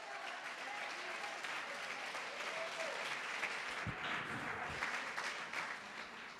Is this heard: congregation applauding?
yes